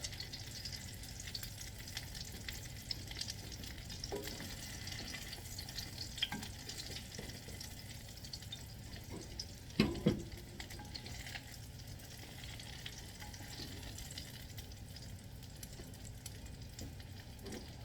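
Apple fritters frying in hot oil in a Finex cast-iron skillet, a steady close sizzle and bubbling throughout, with a brief louder crackle near the middle and no talking.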